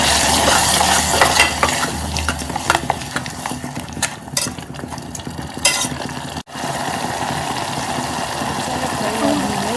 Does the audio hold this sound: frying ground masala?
yes